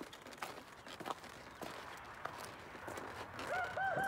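Polish chickens and other fowl on a bird farm give soft, faint clucks and short chirping calls, with a few brighter calls clustered at the end over a quiet outdoor background.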